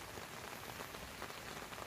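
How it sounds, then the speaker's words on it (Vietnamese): Heavy rain pours steadily and densely on a surface during a mountain stream fishing trip in northwest Vietnam, a constant close hiss with no talking. "Trời mưa rất to"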